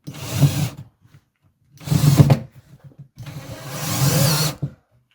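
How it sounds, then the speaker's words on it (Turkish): A power drill drives screws into a cabinet door hinge in three separate close bursts, each a whirring buzz, with short silences between them. "Önce sonra diğer vidalarsınız."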